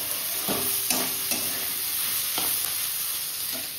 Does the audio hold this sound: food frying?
yes